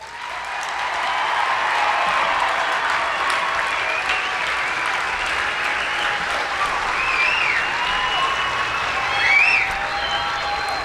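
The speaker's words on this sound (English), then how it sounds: "Please give them a round of applause." Sustained applause from a large crowd at a US Air Force Basic Military Training coin and retreat ceremony in San Antonio, Texas, honoring trainees about to become Airmen, steady and broad with scattered cheers and whistles.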